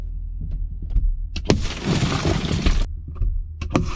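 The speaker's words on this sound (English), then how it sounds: "You can literally hear them doing another smash and grab here, not 4 minutes after they smashed our window." A car window is smashed by thieves in a street smash-and-grab: a few dull knocks, then a sharp crack followed by a burst of crunching, scattering glass lasting over a second, and a couple of thuds afterward.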